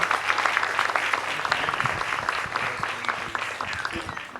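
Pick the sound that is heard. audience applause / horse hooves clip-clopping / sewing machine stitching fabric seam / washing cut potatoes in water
audience applause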